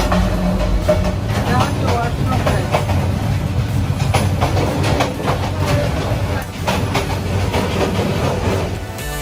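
A passenger train on the Dhaka to Sylhet route rumbles steadily from inside the carriage, near the toilet at night, with continuous loud wheel and track noise and faint voices beneath.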